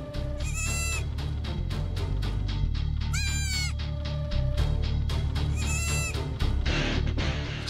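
A cartoon goat bleats several times in an animated episode, with high, wavering, nasal cries over continuous backing music and no talking.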